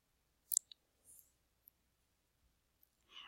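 Soft computer mouse clicks while working in Google Forms, a close double click followed by a few faint scattered clicks in a quiet room.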